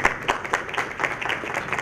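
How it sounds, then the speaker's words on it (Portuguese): Close, steady clapping from an audience at an academic colloquium, a brief stretch of evenly spaced, fairly loud claps under a roomy ambience lasting under two seconds. "Palmas."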